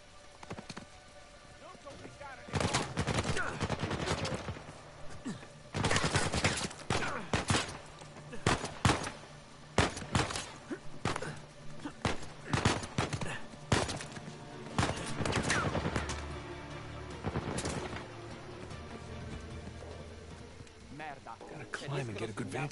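Gunfire in Uncharted, with Nathan Drake pinned down, rapid bursts of shots crackling in clusters over several seconds between quieter ambient stretches, with characters talking in the scene.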